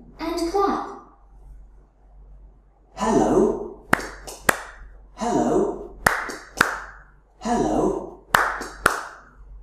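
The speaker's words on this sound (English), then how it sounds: "listen and clap" Children in an English lesson clap along in short bursts between stretches of recorded speech, a few sharp claps following each phrase in a repeating pattern.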